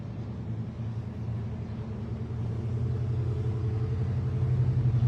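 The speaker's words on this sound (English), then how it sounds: "Here comes a loud truck as I walk by the harbor bar right at the door of it." A loud truck rumbles past near a harbor bar, its low engine drone steady and then swelling louder as it comes close, with no voices over it.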